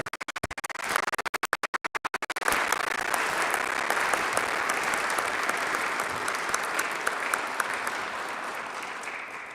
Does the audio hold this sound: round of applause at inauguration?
yes